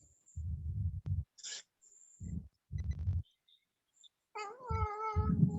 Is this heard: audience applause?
no